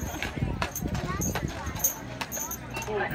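Clydesdale horse hooves clopping on a trailer floor during loading, several uneven hollow knocks and thuds close by, mixed with small rattles and faint movement noise.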